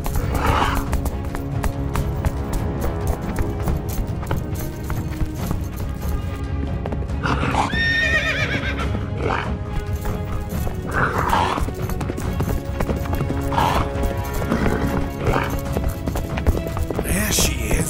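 Several horses gallop off with riders toward battle, hooves pounding steadily throughout, with a loud whinny in the middle and voices calling over the noise.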